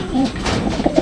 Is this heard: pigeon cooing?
yes